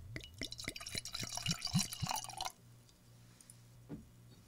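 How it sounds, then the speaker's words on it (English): Toyo Bijin sake is poured into a glass, a close glugging run of rhythmic liquid pulses lasting a couple of seconds before it stops, then a faint drip. "I'm going to give it a pour"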